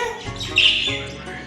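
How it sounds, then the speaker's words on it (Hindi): Pet parrots in a cage on a home balcony give a short, bright chirp over a steady low background hum. The sound is brief and fairly close. "तो तोता बोल रहा है।"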